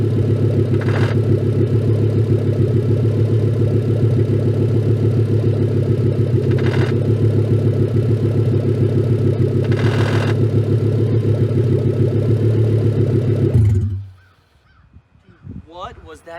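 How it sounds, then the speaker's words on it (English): A swapped-in Porsche engine idles and drones at a steady, loud pitch as the car rolls in gear, then cuts off abruptly near the end, followed by faint noises. "this will be the first time this engine is moving under its own power"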